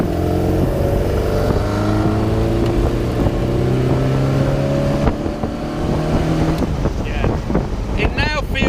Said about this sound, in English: It's got that off throttle splutter that Webers get